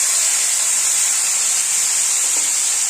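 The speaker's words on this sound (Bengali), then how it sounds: "তেলটা গরম হয়ে গেছে আমি এই যে মিষ্টি কুমড়োগুলো এরকম ডুমো ডুমো করে কেটে নিয়েছি এবার আমি দিয়ে দেবো তেলে" A loud, steady sizzle and hiss from cubed sweet pumpkin and slit green chillies frying in hot oil in a pan, continuous and close with no talking.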